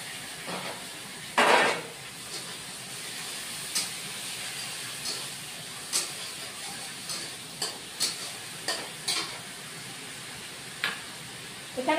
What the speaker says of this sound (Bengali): রসুন বাটা, পেঁয়াজ বাটা দিয়ে দিচ্ছি।